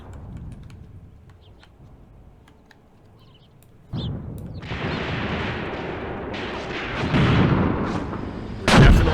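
Booming artillery fire in a WW2 desert battle video game set with the Afrika Korps: a sudden heavy blast, then sustained rumbling barrage and a final loud close burst.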